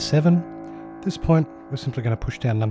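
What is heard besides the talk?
None of the usual background noises is heard.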